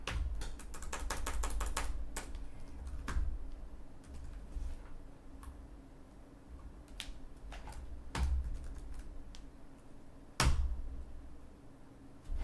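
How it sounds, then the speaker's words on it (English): Someone types on a computer keyboard while entering an email address, a rapid burst of clicking keys followed by scattered individual taps and a few louder thumps, close and clear with no talk. "What I'm doing is actually typing in the correct email address I'm sent from."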